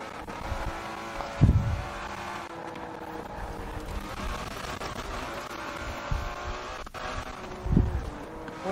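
A 1,000-horsepower car in Forza Horizon 4 roars with a steady, loud engine drone and wind rush, swelling into two brief louder bursts along the way.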